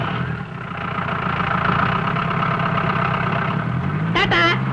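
A vehicle engine idles and hums steadily as someone drives away, a low continuous drone under background voices and music, with a brief rising whine near the end.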